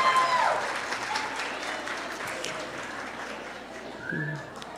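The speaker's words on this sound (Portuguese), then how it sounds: "Pessoal, aplausos para o pessoal da manhã." A seminar audience applauds the morning-session students, a dense burst of clapping that slowly thins out while a voice speaks over the end.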